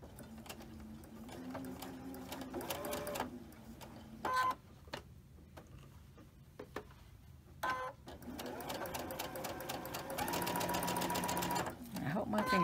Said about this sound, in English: And now I'll start chain stitching all of them.